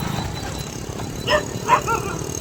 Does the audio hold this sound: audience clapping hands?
no